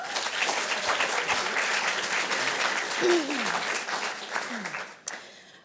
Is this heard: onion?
no